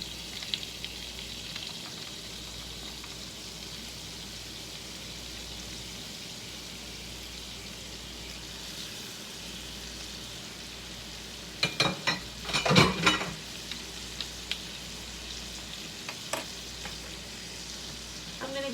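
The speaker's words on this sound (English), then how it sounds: "Go ahead and put my pork chops in." Pork chops fry in a hot pan with a steady, bright sizzle throughout, broken midway by a short cluster of louder crackles and pops.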